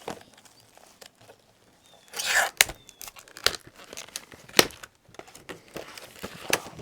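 Packaging of a soil test kit tears open in a close, loud ripping burst, followed by scattered crinkles, rustles and sharp handling taps as the package is pulled apart.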